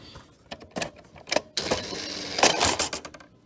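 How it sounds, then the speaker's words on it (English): The motor and tape mechanism of a Toshiba M-2200 VCR with faulty video heads work up close in short bursts of clicks, clacks and whirring, quiet and uneven. "Here's this motor operating."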